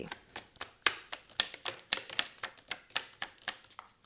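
Tarot cards are drawn and flicked from a deck in a brisk series of about a dozen crisp, close snaps at an uneven rhythm, alone without any voice.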